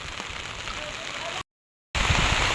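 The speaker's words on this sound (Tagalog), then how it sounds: "Yan po't nabuhos na naman po ang ulan." Heavy rain pours in a steady, dense hiss on a banana plantation, broken by a brief dropout before the downpour resumes just as loud.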